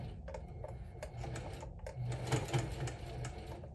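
A sewing machine runs in a continuous fast whirring rattle while stitching across the bottom of a quilted crossbody handbag, close and steady with no talking.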